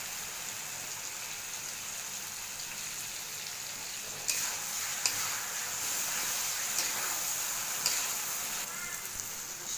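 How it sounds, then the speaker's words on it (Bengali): Mango pickle with sugar and mustard paste sizzles steadily in a pan, and a spoon scrapes and knocks against the metal a few times while it is stirred. "সর্ষে বাটা দিয়ে নাড়াচাড়া দিয়ে মিশাই"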